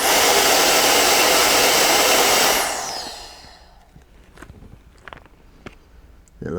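A Roedix R9 electric air duster's tiny motor spins at 150,000 RPM with a loud, steady rushing whine, then winds down and fades out, leaving faint handling clicks and taps.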